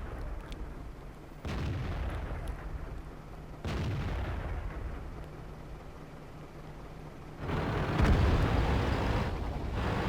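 A tank cannon fires in World of Tanks, the Conqueror heavy tank, with a few heavy booms spaced seconds apart over continuous engine rumble and battle noise.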